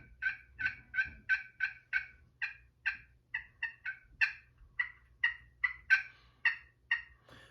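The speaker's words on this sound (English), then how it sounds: "It is the Flex Tone Potluck Turkey Call. It comes with this little carbon fiber striker." Flex Tone Potluck turkey call worked with a carbon fiber striker gives a series of about twenty sharp, evenly spaced yelps, close and clear against near silence.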